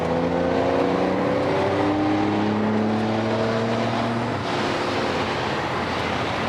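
A race car accelerates at Balaton Park circuit, its engine tones climbing steadily in pitch until an upshift near the end, loud and continuous with no talk.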